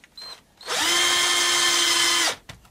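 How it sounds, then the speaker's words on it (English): A power drill drives a screw into a wax sculpture base, one loud steady whine of about one and a half seconds that spins up quickly and then stops, preceded by a brief faint clatter. "The way I'm screwing this down is I just put a screw in the base of the wax"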